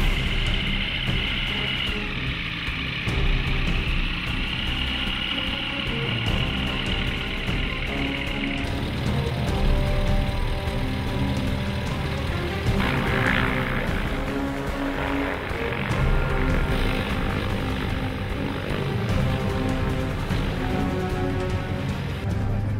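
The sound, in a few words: aircraft landing after aerobatic manoeuvre at air show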